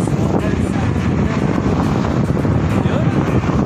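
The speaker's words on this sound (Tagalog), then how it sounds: "Lakas ng hangin, pasalubong pa sa akin." Strong headwind buffets the microphone during a motorcycle ride in a constant heavy roar that drowns out other sound throughout.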